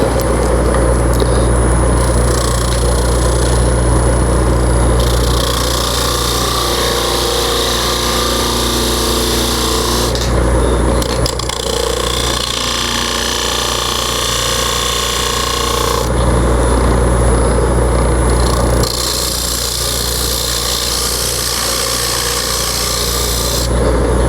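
Wood lathe turning a natural edge winged bowl as a gouge cuts the wood, a loud continuous rough scraping and rasping that swells and eases in long passes over a steady motor hum, with no talk.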